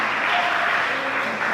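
A church congregation at a Spanish-language sermon applauds in a steady, even wash of many hands clapping, moderately loud and sustained without pause.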